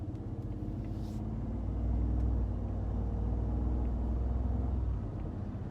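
Ford F-150 V6 EcoBoost truck engine heard from inside the cabin as it is given gas, a steady low rumble that swells slightly and holds, muffled and moderately loud with no talking.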